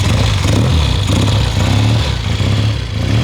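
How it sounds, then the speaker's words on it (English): A 1970 Triumph T120 Bonneville 650cc motorcycle runs after a kick start on a cold day, its engine firing in a steady, loud, close rumble with a rough clatter for a few seconds and no talk over it. "And then we give it a kick and see if she fires up."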